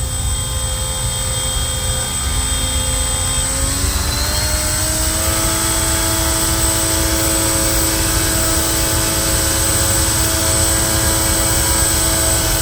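A 3D printed 11x4 propeller spins steadily at half power on a thrust test rig. The loud, continuous whirring hum rises slightly in pitch early on and then holds constant, with no voices.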